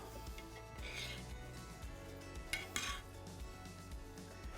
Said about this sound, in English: I'm going to spoon some of this sticky sauce straight over the top